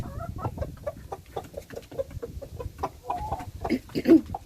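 Several backyard hens cluck and squawk near the microphone in quick, irregular bursts, with a sharper squawk near the end.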